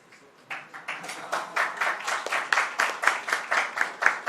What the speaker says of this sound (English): You get more claps.